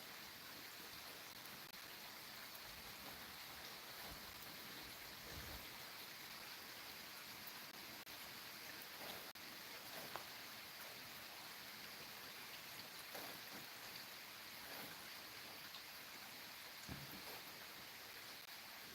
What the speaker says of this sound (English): Yeah, raining. Yeah, it's gonna rain all night.